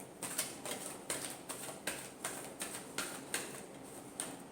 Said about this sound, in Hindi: एक शफल और करेंगे।